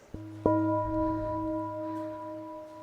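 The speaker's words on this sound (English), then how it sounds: "You can pull and let go, which causes the bell to peal, like this." A church bell pealing after its rope is pulled and let go, two quick strikes followed by a long, clear ringing tone that slowly fades, heard alone in a quiet room.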